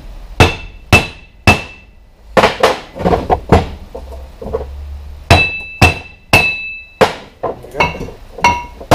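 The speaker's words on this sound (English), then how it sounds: "a few taps of the hammer should separate it." Sharp metallic hammer taps on a Ford Transit MK6 front brake disc ring out one after another in uneven bursts, each strike leaving a brief clanging ring, loud and close.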